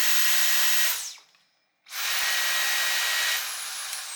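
A Dyson V10 cordless vacuum with a replacement motor whines loudly and steadily, cuts out for about a second, then starts up again and keeps running at a high, constant pitch.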